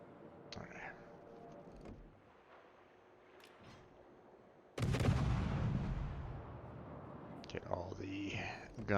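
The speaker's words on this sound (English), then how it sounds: "the guns firing on this guy" Warship guns firing in the naval battle game World of Warships, with a loud heavy boom hitting midway and rumbling on, while quieter talk runs before and after it.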